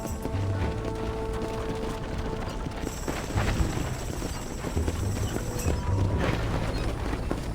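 Horses gallop in the Red Dead Redemption video game, a steady clip-clop of hooves running beneath a continuous mechanical, clattering game soundscape with no talking.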